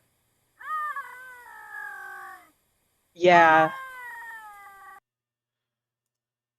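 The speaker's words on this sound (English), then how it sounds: "this is what bobcats sound" Bobcat calls: two drawn-out, wavering yowls, each followed by a fading tail, separated by a short silence.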